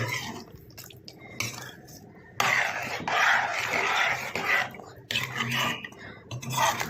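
A spoon scrapes and clinks around a pot of warm custard with added fruit, in bursts of wet stirring and knocking against the metal, with short pauses between strokes.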